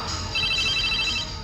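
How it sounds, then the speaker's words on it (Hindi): A telephone rings close by with a bright electronic warble repeating steadily for about a second and a half over a low background hum, with no talk. "ओह, तो फोन यहाँ से आ रहा है।"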